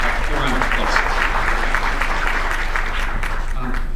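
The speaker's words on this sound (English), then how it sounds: "you deserve a round of applause" An audience at a conference welcome session gives a round of applause, a loud, continuous wash of clapping over a steady low hum, with some murmuring voices mixed in.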